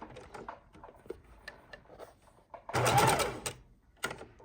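A sewing machine stitches back and forth to reinforce a seam on a fabric tote bag, with light clicks and taps first, then a loud close burst of rapid stitching near the end.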